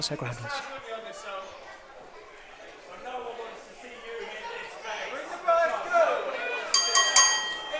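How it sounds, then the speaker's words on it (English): A bell rings out near the end to open a wrestling match at a DOA Adrenaline Cup event, cutting bright over a chattering crowd while commentators talk throughout. "There's the opening bell."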